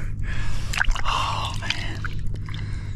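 A large largemouth bass is let go back into the water during a fall fishing trip, giving a few close splashes and drips against steady outdoor background noise, with a brief breathy sound partway through.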